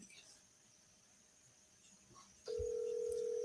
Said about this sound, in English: We're going to give him the triple dial.